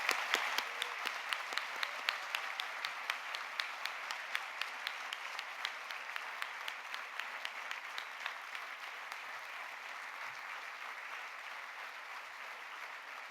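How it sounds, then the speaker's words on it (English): A round of applause at the 2021 Sarah and James Bowdoin Day award ceremony for book winners: many pairs of hands clapping, crisp and fairly close at first, then easing into a steadier, softer patter as it continues. "if we could extend a nice round of applause to all of our book winners"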